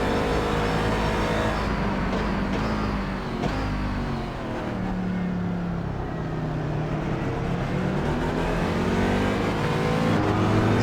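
GT3 race car at the 24 Hours of Daytona, a loud, sustained engine roar that climbs and shifts pitch as it goes by, steady and dominant throughout with no voices over it.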